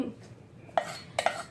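Onions dropped into a pan with butter, heard as a few sharp clinks and clatters of food and utensil against the pan, close and fairly loud with no talk.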